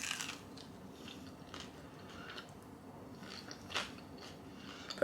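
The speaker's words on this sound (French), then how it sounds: "elles sont ultra croustillantes" Air-fried potatoes crunched between the teeth at close range: several crisp bites with short crackling bursts, spread over a few seconds and heard alone without talk.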